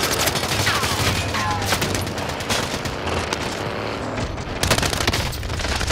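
Sustained bursts of gunfire and booming impacts from a Call of Duty Warzone battle royale match, loud and continuous, with a player's voice faintly beneath the barrage.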